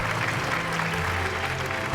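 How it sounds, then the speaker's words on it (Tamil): A studio audience claps steadily to welcome a guest onto a Tamil talk show, a dense continuous patter of many hands with some faint low tones underneath. "ஒரு மிகப்பெரிய கைத்தட்டல் கொடுக்கலாம்"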